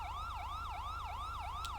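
The second siren tone of an ELS police vehicle in the LSPDFR game is a loud, fast, repeating up-and-down wail, about three sweeps per second, over a low steady engine hum.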